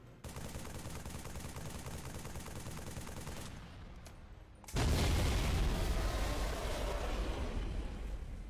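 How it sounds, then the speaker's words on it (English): Rapid, sustained automatic assault rifle fire in Halo 3 runs loud and steady for about three seconds, then a short lull gives way to a sudden, louder roaring blast of heavy gunfire and explosions. "He unloads his assault rifle."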